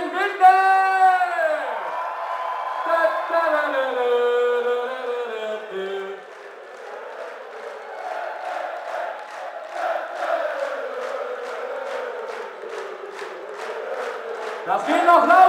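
A crowd at an evening concert in Windeck cheers and whoops loudly, first a sustained sung roar of many voices, then rhythmic chanting with clapping on every beat, close and energetic.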